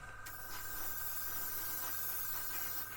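An airbrush sprays paint onto the floor of a Revell PBY-5 Catalina scale model, a steady close hiss with a faint constant tone running throughout.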